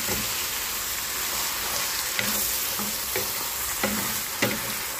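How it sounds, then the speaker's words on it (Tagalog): Noodles sautéed with ground meat and sponge gourd (patola) in a pan give a dense, steady sizzle. Several soft spatula strokes stir the pan at a regular pace, with no talking. "Gisa saglit para sakapit ang lasa ng ating mga iginisa dyan."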